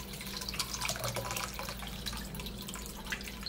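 Water from a tap running over an LG V30 phone frozen in ice, a faint, steady trickle with soft drips, close by and continuous, with no voices.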